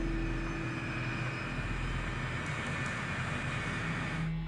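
A 747 freighter taxiing toward the runway at a crowded airfield, a steady loud engine drone with a constant whine, unchanging throughout and alone without talk, cutting off abruptly at the end.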